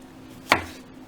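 A knife slicing through a small potato on a cutting board, a single sharp close chop standing alone in quiet surroundings.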